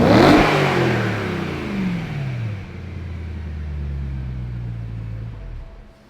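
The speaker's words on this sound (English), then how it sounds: "Now that the car is warm, let's do a little bit of a before rev." A BMW E92 M3 with its stock exhaust is revved once, the engine climbing sharply and then falling back to a low, steady, fairly muted idle rumble heard up close.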